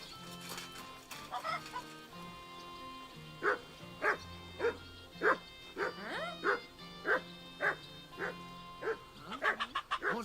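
A dog in the video game Kingdom Come Deliverance II barks on command, a steady run of about ten sharp, evenly spaced barks over soft game ambience with chicken-like clucks in the background.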